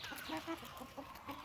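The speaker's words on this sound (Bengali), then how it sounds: "এই যে দেখো, এগুলো সব আমার কলকনাথ মুরগি" Kadaknath chickens, a pure original breed kept free-ranging, cluck softly in a short run of repeated low calls, faint and close.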